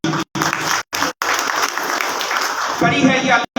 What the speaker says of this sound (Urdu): میرے صاحب کے لیے بھرپور تالیاں ہونی چاہیے